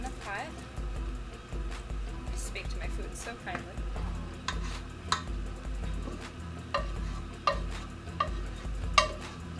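Mushrooms for a mushroom bourguignon tipped back into a pot and stirred, with repeated sharp scrapes and clinks of a utensil against the pot over a low simmering rumble, irregular and close.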